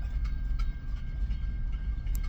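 A train passes as a steady low rumble of rail noise, with faint rhythmic clicks and a thin high whine above it, close and continuous.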